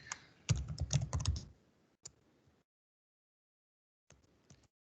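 Keys clatter on a computer keyboard in a quick burst of rapid strokes, then a single tap and a short final cluster after a pause, close and alone with no talk.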